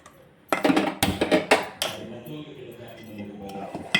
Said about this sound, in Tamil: நல்லா அடுப்பை பற்ற வச்சு அப்படியே கலருங்க